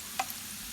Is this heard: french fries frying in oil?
yes